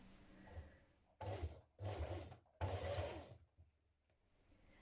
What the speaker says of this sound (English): you're going to stitch with a twin needle, so you want straight stitch